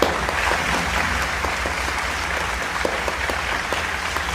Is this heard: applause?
yes